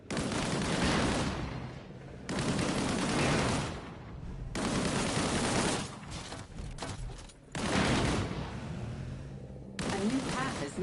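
Bursts of gunfire in the video game Disintegration hit a barrel. Dense, loud volleys stop and start in several blocks, with short quieter gaps between them and a game voice faintly underneath.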